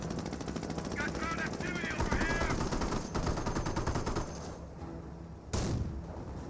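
Sustained rattling machine-gun and rifle fire around a munitions observation post in Company of Heroes, faint and distant, with a sharp louder burst near the end.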